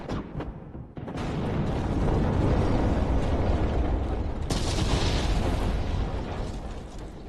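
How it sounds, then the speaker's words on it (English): Layered cinematic explosions, a dense barrage of small bursts building into larger booming blasts, loud and sustained with a sharp hit midway and rumbling debris throughout. "A lot of mini explosions going on down there, followed by some bigger explosions coming up here"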